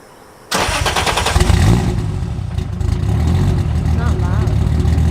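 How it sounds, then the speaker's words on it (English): A Toyota Supra's engine cranks on a cold start and catches abruptly, then roars loudly and settles into a rough, rumbling idle, with voices faintly underneath. "Do you mind getting a cold start"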